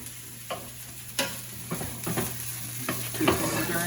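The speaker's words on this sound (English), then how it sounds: "we're going to add our cold cooked rice right into the frying pan" Cold cooked medium-grain rice fries in a pan, a soft steady sizzle broken by a handful of sharp scraping stirs from a utensil, close and quiet, with no talking.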